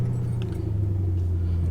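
A 2006 Mustang GT V8 with a newly fitted cold air intake and tune rumbles at a steady deep idle right after starting, close and continuous, with a faint metallic jingle early on.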